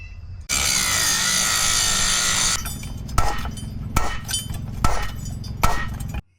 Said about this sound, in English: So now we have to resort to using the grinder.